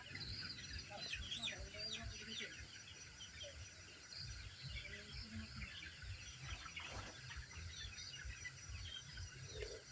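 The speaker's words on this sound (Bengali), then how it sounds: "দেখতে পাচ্ছেন একটি একটি করে মুরগি লোড দিচ্ছে" Chickens clucking and squawking as they are loaded one by one into sacks at a poultry farm of colour bird broilers, with busy overlapping calls and handling noise at a steady level and faint voices in the background.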